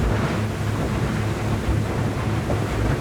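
A Whittley AL Series boat's motor, running at about 4,300 revs on open water, gives a steady low engine drone blended with rushing water and wind buffeting, loud and continuous.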